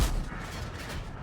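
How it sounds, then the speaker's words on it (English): Blind gunfire from an XM66F in a video game, heard as a brief, muffled burst of low booming shots over a rough background rumble. "Just gonna blind fire up here a little bit"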